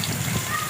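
Heavy rain pouring down in a village at night, a brief, steady, close wash of rainfall with no break.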